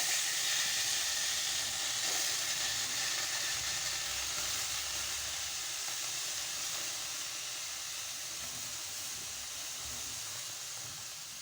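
A kitchen gas stove burner hisses steadily and continuously at moderate level, fading slightly toward the end, with no talking.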